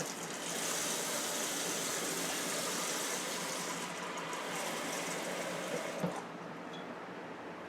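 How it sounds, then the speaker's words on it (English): Tap water pours into a cooking pot for a stew, a steady rushing splash that stops abruptly near the end. "And fill it up a little bit with water."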